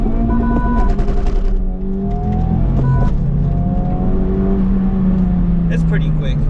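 A Honda Civic Type-R FL5 or Acura Integra Type-S accelerates hard through first and second gear, with a loud engine that climbs, drops at the shift, and climbs again. Someone talks over it.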